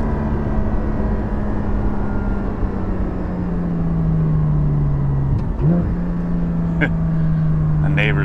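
A Porsche 718 GT4 fitted with a Soul Performance rear section drives along a small road, its steady exhaust drone holding throughout with a brief dip and pitch shift partway, while a person talks over it.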